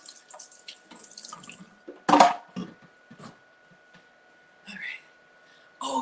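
A kitchen tap runs briefly to rinse strawberries in a sink, a short close splash of water amid scattered soft clatters and faint handling sounds, with quiet pauses between.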